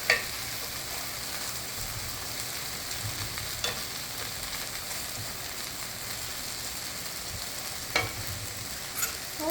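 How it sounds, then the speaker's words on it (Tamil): Okra stir-fried in a pan gives a steady, even sizzle with a few sharp utensil knocks and scrapes, close and moderate in volume, and no voices. "இன்னும் கொஞ்சம் சுருங்க சுற்றிக்கலாம், கொஞ்சம் சுருங்க வதக்கலாம்"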